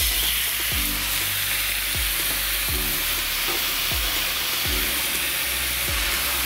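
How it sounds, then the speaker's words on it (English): Light soya sauce hits eggs frying in a pan and sets off a loud, steady sizzle, with a series of regular soft knocks or scrapes recurring about once a second beneath the hiss. "First add in the light soya sauce."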